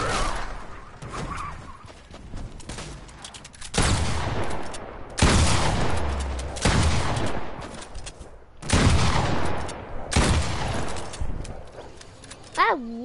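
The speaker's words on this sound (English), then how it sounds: "Let's try with the hunting rifle" Hunting rifle fire in the video game Fortnite: several loud, sharp single shots spaced a second or two apart, each ringing out with a long tail over quieter game ambience.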